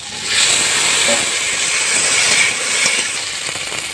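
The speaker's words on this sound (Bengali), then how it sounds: "এবারে কেটে রাখা আলু দিয়ে দেবো" Cut potatoes tipped into a hot pan of oil with mango pieces for a village-style fish dish, giving a loud, steady hiss and sizzle that swells early and holds throughout, close and continuous with no talking.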